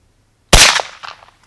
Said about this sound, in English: I'm gonna shoot the bowling pin first.